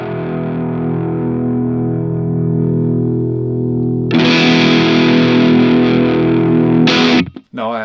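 An electric guitar plays through a Nobels ODR-1 overdrive pedal with the bass cut switch on. It starts with a sustained, sweeping overdriven chord, then a brighter, fizzier distorted strum, with a brief choppy cutoff at the end.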